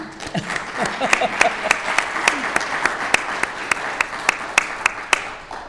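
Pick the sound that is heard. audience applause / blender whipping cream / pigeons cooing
audience applause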